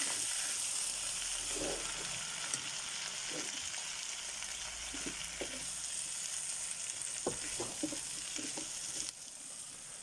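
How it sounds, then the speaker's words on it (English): Potatoes frying with spices in a pan of a kidney bean and potato curry, a continuous dense sizzle with occasional spoon scrapes and taps as they are stirred, close and steady without speech. "We're going to add our potatoes. Now make sure they're combined."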